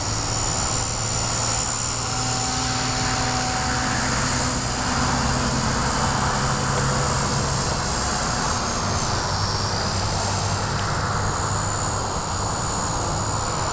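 A small V120D02S RC helicopter flies 3D rolls and loops, a continuous high whining rotor and motor buzz that swells and fades slightly as it maneuvers, with no voices.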